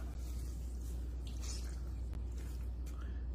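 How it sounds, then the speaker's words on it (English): Bread soaked in water is squeezed and wrung out by hand over a sink, giving soft, wet squishing sounds that stay faint beneath a steady low background hum. "just get your bread, soak it in the water, wring it out"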